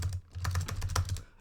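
Fast, forceful typing on a computer keyboard during a game jam, a dense run of sharp close-up key strikes with a low thumping undertone, no voices.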